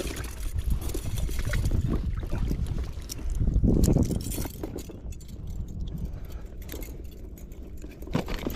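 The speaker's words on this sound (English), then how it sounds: "Time to paddle on home." Paddling a small boat across a lake after a trout fishing outing, with a continuous low wash of water and steady paddle strokes, a louder surge partway through, no talking.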